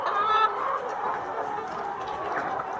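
Laying hens on a poultry farm cluck and murmur in a close, busy chorus, with one louder squawk at the start and steady overlapping calls after.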